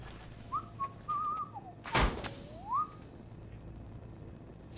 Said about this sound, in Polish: To ten Cosworth tak gwizdze?